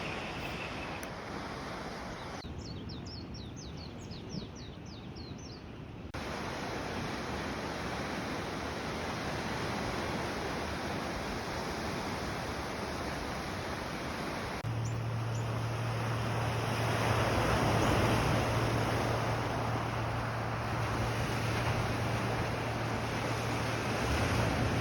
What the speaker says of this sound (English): we sit and we listen to the gentle lapping of the waves